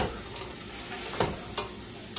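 Celery and carrots stir-frying in a pan: a close, steady sizzle under a few sharp scraping stir strokes, with no voices.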